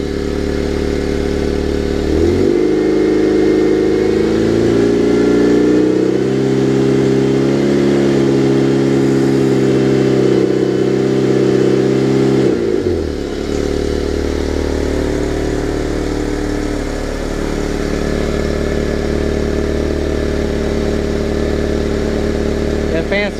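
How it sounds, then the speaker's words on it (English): Car engine idling steadily during an automotive A/C vacuum, charge and run test, a low hum joined by the whir of the cooling fan cutting in and running for several seconds before easing off, close by, with talk over it. "Yeah, our fan's starting to kick in now."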